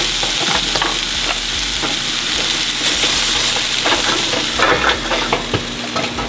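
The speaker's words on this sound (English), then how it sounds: "First, we're making the popcorn." Popcorn cooking in a pan on the stove, with a steady close sizzling, frying hiss and scattered sharp pops running throughout, no voices.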